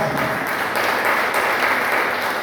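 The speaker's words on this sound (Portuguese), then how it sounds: "Pode aplaudir ao Senhor mais forte." Church congregation clapping louder at a doctrine service, a thick continuous roar of many hands, even and sustained, with a few sharper claps rising above the mass.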